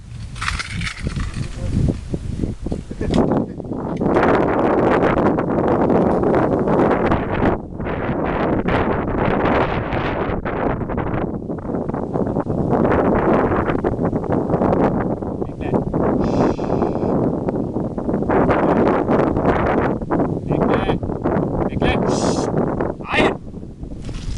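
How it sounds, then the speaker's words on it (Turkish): Strong wind buffets the microphone outdoors on a farm, a steady loud roar and rustle lasting throughout with gusty surges. "Ya rüzgar var rüzgar."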